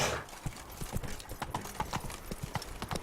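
Roach, the horse in The Witcher 3 (Blood and Wine, Beauclair), clops along at a steady walking rhythm, hoof strikes close and distinct throughout.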